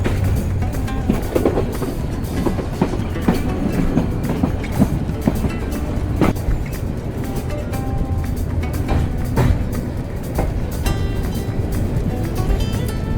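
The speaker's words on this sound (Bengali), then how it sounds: "আন্তনগর হাওড় এক্সপ্রেস কমলাপুর রেলওয়ে স্টেশনের 1 নম্বর প্ল্যাটফর্মে প্রবেশ করলো।" The Haor Express intercity train rumbles into platform 1 at Kamalapur railway station, a loud continuous roar of wheels with rhythmic clicks and clanks over the rails throughout.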